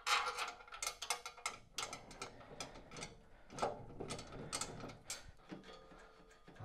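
Bolts being done up by hand during treadmill assembly, a busy run of close mechanical clicks, ratcheting ticks and small metallic knocks that continues steadily without talk.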